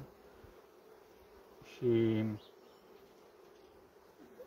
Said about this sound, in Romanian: de albine se năpădesc asupra acestei rame cu miere